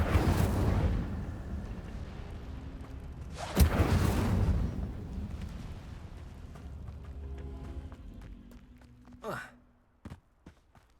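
A fire spell cast in the video game Hogwarts Legacy bursts out in a couple of loud whooshing blasts with sharp attacks and decaying roar, followed by quieter game effects and a brief voice-like sound near the end.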